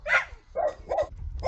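Several friendly dogs bark in short bursts, four loud yips and barks spaced irregularly over a low rumbling background, close to the listener.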